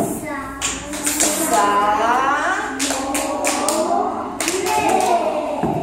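Children in a classroom clapping out the syllables of words, several sharp rhythmic claps in uneven groups mixed with the teacher's and children's voices.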